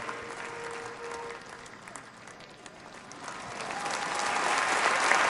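A rally crowd, cheering a fallen firefighter, claps and chants in a dense wash of applause that swells louder toward the end.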